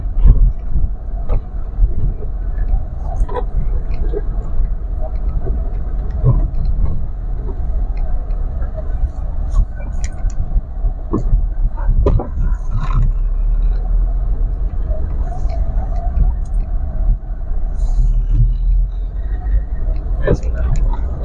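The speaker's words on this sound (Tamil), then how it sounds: "வண்டி பாருங்க எவ்வளவு நீட்டா போயிட்டு இருக்குன்னு, குட் கண்டிஷன் இருக்கு பாத்துக்குங்க" Maruti Zen LX car in good condition driving along a road, with a steady low engine and road rumble throughout, occasional knocks and bumps, and someone talking over it.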